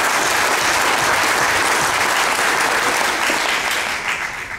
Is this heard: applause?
yes